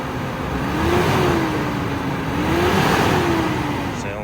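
A car engine idles and is gently revved at a police towing auction, a steady close hum that swells and eases twice, with no talk over it.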